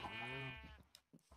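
A sheep in the VR game QuestCraft lets out a single wavering bleat up close, followed by a few soft knocks and faint clicks.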